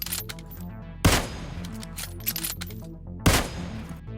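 Gunfire in the PUBG Mobile video game: two sharp, loud shots about two seconds apart, each cutting through a steady layer of tonal game music.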